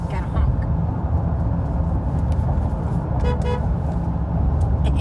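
A car horn gives short toots over a loud, rumbling engine and road noise, with voices mixed in.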